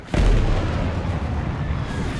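An AIM-120 missile strikes in the War Thunder air combat game, opening with a sudden loud deep boom and settling into a heavy sustained low rumble that carries to the end, with no talking.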